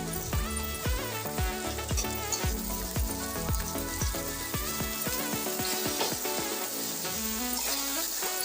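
Amaranth leaves hit hot oil in a frying pan for dal and give off a continuous sizzling hiss. Rhythmic background music plays over it, and no one speaks.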